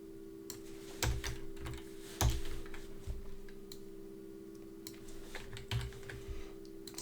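Quick bursts of typing on a computer keyboard, close and clear, with irregular clusters of key clicks and a few heavier thumps over a steady low electrical hum.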